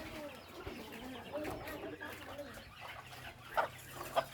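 Chickens cluck and murmur nearby in short bursts, with a couple of sharper calls, over faint background noise.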